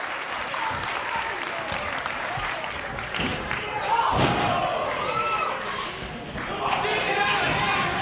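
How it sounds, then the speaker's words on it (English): At a 2002 CZW wrestling event, a crowd cheers and claps over steady arena noise with ring thuds. A commentator talks over it throughout. "Listen to the crowd."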